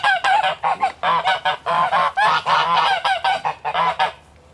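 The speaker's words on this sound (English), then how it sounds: "I can also hear geese gently clucking" Several geese on a farm honk loudly and close by in rapid overlapping bursts, a nearly continuous run of harsh calls that falls quiet at the very end.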